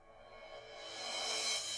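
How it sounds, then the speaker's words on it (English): A cymbal swell in music production rises gradually in loudness, a bright shimmering wash that builds over about two seconds and stands alone without voices. "And then we also have a cymbal swell."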